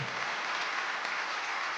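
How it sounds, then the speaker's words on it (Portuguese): A congregation claps in a round of applause inside a church, honouring Saint Louis de Montfort. The clapping is steady, dense and moderately distant throughout, with no talk over it. "Vamos dar uma salva de palmas para São Luís também."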